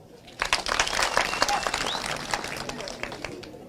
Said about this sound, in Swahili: mimi naomba tupigie makofi